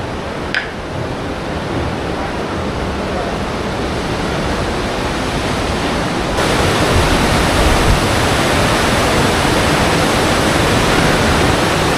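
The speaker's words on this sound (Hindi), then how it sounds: "नीचे की तरफ से बह रही है नदी और साथ में धुआं भी उठ रहा है।" A river rushes below the hot springs at Manikaran in a loud, dense, unbroken roar that swells slightly partway through, with no voices.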